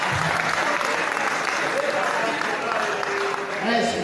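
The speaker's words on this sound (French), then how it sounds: "Est-ce qu'on peut acclamer très fort?" Church congregation applauding loudly during a service, dense continuous clapping with some cheering that holds steady to the end, a voice faintly audible underneath.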